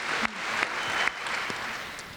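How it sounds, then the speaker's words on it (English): Audience applause at a College of Education convocation ceremony; a steady wash of clapping from a large seated crowd in a hall, fairly loud and sustained throughout, with a few sharper individual claps standing out. "that's worth some applause"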